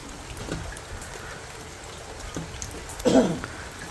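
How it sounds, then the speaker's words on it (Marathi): Rain falls steadily in a soft, continuous patter, with a few louder drips and a brief splash of water near the end; no talking. "वरतून पाऊस पडून राहिला, अजून पण कंटिन्यू पाऊस पडून राहिला."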